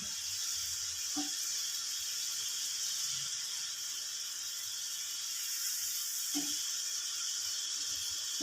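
Soaked, dried chana dal fries in oil with a faint, even hiss that runs continuously, broken only by a couple of soft clinks.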